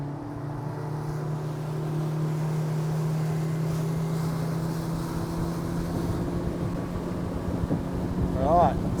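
A Yamaha F50 outboard converted to F60 spec pushes a boat at full throttle: a steady, loud droning engine tone holds and slowly rises, with wind and water noise around it.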